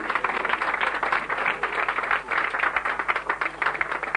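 Studio audience applauding at a 1980s French telethon, a steady dense patter of many hands clapping at moderate volume, heard alone with no talk.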